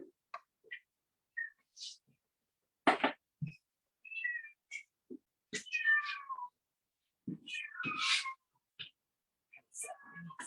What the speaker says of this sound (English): one of our outdoor cats was being needy and meowing very loud into the window